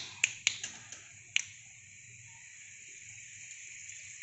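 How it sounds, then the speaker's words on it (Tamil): Mustard seeds crackling in hot oil for tempering onion chutney, a few sharp pops early on, then a faint steady sizzle. "இப்போ கடுகு நல்லா பொரிஞ்சிருச்சுங்க"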